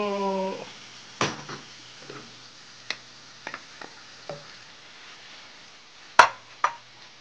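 A utensil stirs and tosses marinated japchae noodles and vegetables in a pan, giving scattered clinks and soft scrapes at an uneven pace over a faint background hiss, with no talking.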